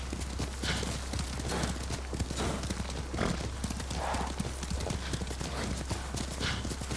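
Steady clip-clop of hooves at a quick gallop pace, with a brief whinny, over a low constant hum, from a horse in the video game Ghost of Tsushima.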